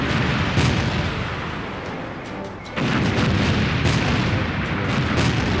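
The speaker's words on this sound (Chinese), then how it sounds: "我们现在看到的烟火和炸点显示，是由空军山鹰旅扮演的蓝军正在对红军实施远程火力打击" Simulated long-range artillery strike during a marines defensive-position exercise, with booming explosions and rumbling blasts layered into a dense, continuous roar that dips briefly before surging again.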